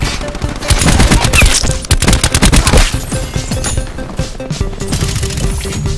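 Sentry gun in Black Ops 4 firing loud, fast bursts of closely spaced shots, heaviest in the first half, then continuing more sparsely over the game's background sounds.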